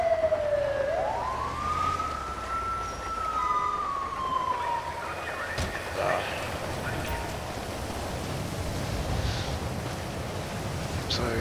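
In GTA 5, an ambulance siren wails in one long sweeping rise and fall over wet road noise, then cuts out. A broad hiss continues with a few faint clicks and thumps.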